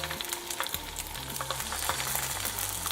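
Salmon fillets are laid skin side down in a hot pan and fry with a dense, crackling sizzle that runs steadily throughout, spattering and popping close by.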